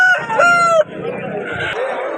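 A four-kilogram rooster at a rooster market in Vijayawada crows once, close and loud, its call rising and breaking off, followed by softer background clucking and noise.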